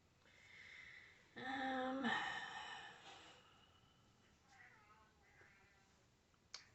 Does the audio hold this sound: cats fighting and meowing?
yes